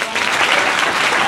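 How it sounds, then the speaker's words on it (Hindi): Students at a coaching class in Jamui clap together, giving a dense, continuous burst of applause that fills the short moment from start to finish, with no talk over it. "ताली बजाइए थोड़ा।"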